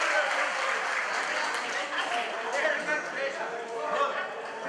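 An audience applauds at a folk dance ensemble's annual concert, with steady, dense clapping from a large hall crowd that holds at an even level throughout.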